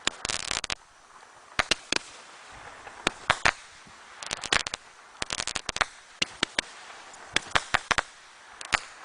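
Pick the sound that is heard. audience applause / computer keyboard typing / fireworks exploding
fireworks exploding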